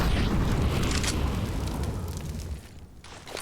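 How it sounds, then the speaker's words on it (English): An incendiary grenade bursts in Counter-Strike on the Vertigo map at an esports match, a loud, roaring whoosh of fire that fills the clip and slowly fades toward the end. "Has got an incendiary which will buy him time to escape."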